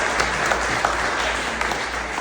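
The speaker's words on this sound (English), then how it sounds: "let's go ahead and applaud" An audience at a candidates forum applauds the candidates, a dense, steady wash of clapping from many hands that holds evenly throughout without any talk over it.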